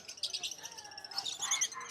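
Pet birds for sale at the Malabon pet market chirping and tweeting in quick, high bursts, several overlapping calls close by, with faint chatter from people in the background.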